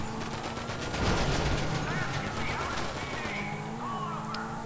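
Unsuppressed gunfire in a video game rings out in rapid bursts, several sharp shots overlapping with game background noise and faint voices throughout.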